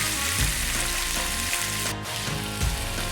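Onions fry with salt in a hot pan, giving a loud, steady, dense sizzle that runs unbroken from start to finish, with no voices.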